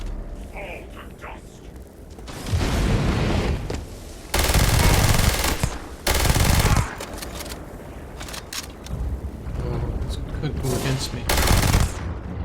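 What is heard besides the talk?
gun firing in the video game Starfield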